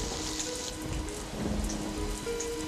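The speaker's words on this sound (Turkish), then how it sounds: "Bu yağmurda kimse dışarıya çıkamaz." Steady rain falling at night, a continuous soft patter and hiss with a few faint tonal sounds underneath and no talking.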